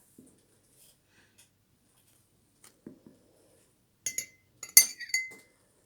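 A spoon clinks lightly against glass while dye is poured onto an egg for decorating, scattered soft taps building to a brighter cluster of clinks near the end, close and otherwise quiet.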